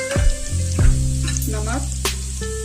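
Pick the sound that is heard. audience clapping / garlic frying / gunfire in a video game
garlic frying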